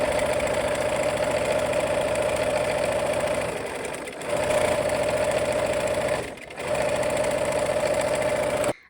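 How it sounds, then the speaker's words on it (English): A sewing machine stitches light pink quilt triangles onto squares, a close, steady motorized hum in several runs separated by two short pauses, then a sudden stop; no speech. "we're going to sew our quarter square, these light pink triangles, to these other squares"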